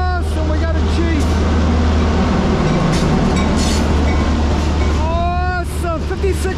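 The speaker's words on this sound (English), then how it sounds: "Awesome, 5604, Norfolk Southern Jeep." A Norfolk Southern EMD Geep diesel locomotive works a local job with hopper cars, making a loud, continuous diesel rumble. Rail clatter and curving wheel squeals rise at times, and people talk in the background.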